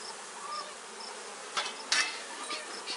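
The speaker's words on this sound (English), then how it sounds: "A lot of bees. Lots of bees." Honeybees hum in a dense, continuous drone from an open hive during an inspection of a package colony getting a second brood box, with a few closer buzzes flaring past.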